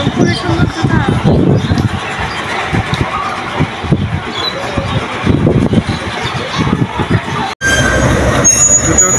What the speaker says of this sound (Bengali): এটা হচ্ছে পঞ্চগড় লোকাল ট্রেন, এটা চলে যাচ্ছে এখন।